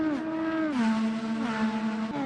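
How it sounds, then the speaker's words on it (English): IndyCar race car engine in a racing video game, a steady close droning rev that steps down and back up in pitch, loud and continuous without talk. "Genesis is able to get the car started."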